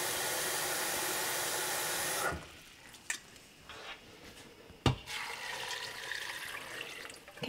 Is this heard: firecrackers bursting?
no